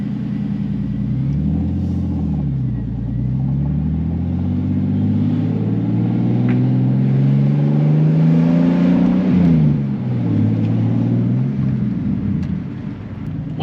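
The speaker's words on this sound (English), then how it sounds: "Straight six sounds good, strong, and then the turbo noises, they're, you know, you just gotta love them." A turbocharged BMW E46 straight-six fitted with a CXRacing turbo kit revs repeatedly, its loud, steady engine note rising and falling through several pulls with no talk over it.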